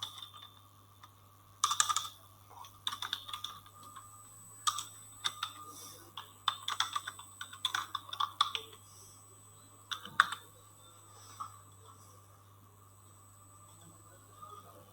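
Typing a name on a computer keyboard: quiet, irregular bursts of key clicks in short runs, with pauses between, over a steady low background hum, fading out toward the end.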